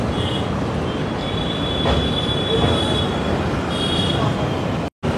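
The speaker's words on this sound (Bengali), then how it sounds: "এই ব্রিজের উপর আসলে কিন্তু ট্রেনের স্পিডটা একবারে 10 থেকে 20 কিলোমিটারের মতো থাকে" Humsafar Express train rolling slowly across a bridge over the Ganges near Dakshineswar, a steady close rumble of wheels on rails with persistent high metallic squealing that rises and fades, heard from on board and continuous throughout.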